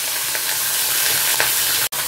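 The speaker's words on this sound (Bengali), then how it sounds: "মাছটা ভাজা হচ্ছে।" Katla fish sizzles steadily in hot oil, a close, continuous frying hiss with faint crackles throughout and a brief dropout near the end.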